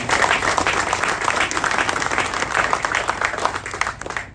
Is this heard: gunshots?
no